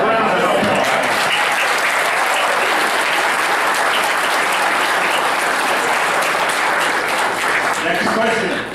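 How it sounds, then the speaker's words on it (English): Sustained audience applause fills a panel discussion on cannabis policy, a dense wash of clapping holding steady and loud for nearly nine seconds before tapering at the end. "A round of applause."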